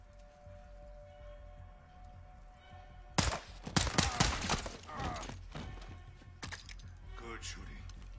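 Bursts of video game gunfire crack out in the middle of the clip, a cluster of loud overlapping shots with a couple of later reports, following a quieter stretch of ambient background with faint voices.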